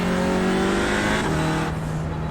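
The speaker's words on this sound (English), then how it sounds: "There's a faster class car approaching." A faster class race car approaching in the iRacing sim, a loud continuous engine drone with steady pitch, close and dominant, with no talk over it.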